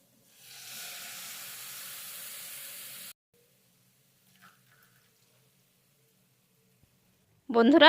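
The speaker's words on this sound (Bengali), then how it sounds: "এবার আমি এর মধ্যে দিয়ে দিচ্ছি দু কাপ দুধ" Two cups of milk are poured into a pan of fried grated carrots for carrot halwa, making a steady hiss for about three seconds before near silence, then a sudden loud burst at the end.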